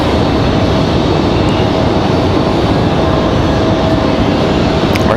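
A JetBlue airliner in a special livery taxis at Raleigh-Durham, producing a constant loud engine hum and broadband hiss that stays level for a few seconds.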